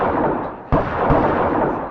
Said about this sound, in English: There was no mistaking it. Gunshots.